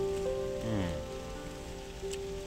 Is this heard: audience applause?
no